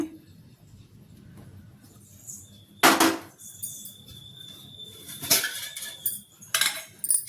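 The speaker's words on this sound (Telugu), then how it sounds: "ఇప్పుడు స్టవ్ వెలిగించుకొని గిన్నె పెట్టుకొని" A cooking pot is set down on a lit gas stove to make egg onion pulusu, with a loud metallic clank followed by several lighter knocks and clatters close by, in an otherwise quiet kitchen.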